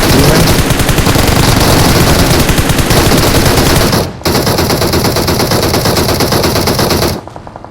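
Sustained rapid gunfire from a video game, loud and nearly continuous automatic bursts with two brief breaks, dominating the mix with no talking.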